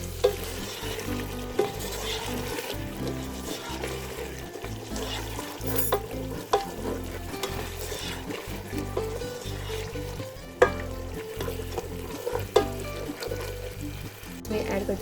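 Spices with ground garam masala fry in a pan for Turkish biryani, a continuous sizzle with scraping stirs and occasional clanks, under background music and some talking.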